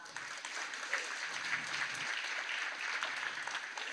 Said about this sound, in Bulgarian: Моля за вашите аплодисменти за комитета по избора.